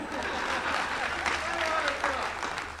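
An audience at a Hindi poetry recital applauds in a continuous, moderately distant patter, with a voice briefly audible beneath it.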